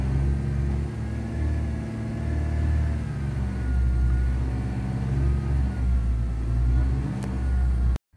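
A car engine idles steadily with a low, continuous rumble, heard up close and alone for about eight seconds, with no talking over it.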